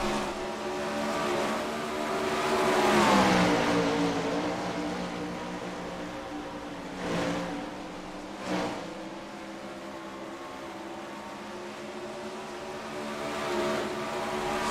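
410 sprint cars roar around a dirt oval, engines rising and falling as the pack drags down the straight, with a couple of sharp passes standing out against a steady distant crowd of motors.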